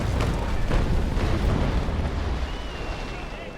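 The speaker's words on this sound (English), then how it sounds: "bringing the guns on, level out, shoot" Heavy naval cannon fire from square-rigged sailing ships in the Naval Action game keeps booming in dense, rumbling bursts that blend into a continuous roar throughout.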